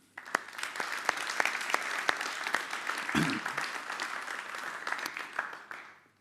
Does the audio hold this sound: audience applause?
yes